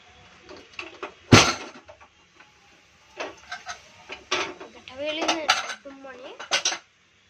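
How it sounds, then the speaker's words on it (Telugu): Metal pots and utensils clatter and clink as the cap comes off a pressure cooker of bottle gourd curry, with a loud clank early on, then scattered scraping and rattling bursts. "క్యాప్ తీసేయాలి."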